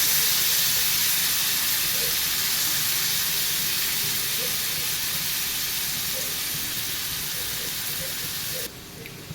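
Prawns fry in a hot pan with a loud, continuous hissing sizzle that stays steady throughout, easing slightly and dropping off abruptly near the end.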